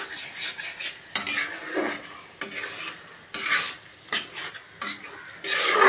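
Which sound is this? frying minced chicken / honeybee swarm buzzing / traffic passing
frying minced chicken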